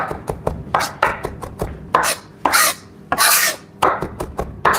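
Kitchen knife chopping food very finely on a board, a fast uneven series of crisp close taps and scraping strokes, loud and alone.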